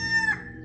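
A brief snippet of a rooster's crow, a short harmonic call trailing off, heard at moderate distance.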